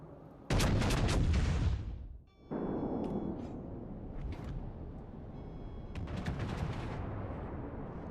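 Naval shell fire in a warship video game: a loud heavy gun salvo booms and rumbles for about two seconds, then fainter distant shots and crackling impacts follow over a steady background rumble.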